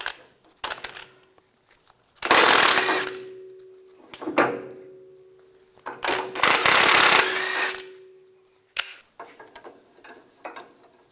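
A 21mm socket on a power tool removes the center link nut on a 1998-2002 Lincoln Navigator, with two loud bursts of whirring impact rattling, each a few seconds long, separated by small metallic clicks and handling noise.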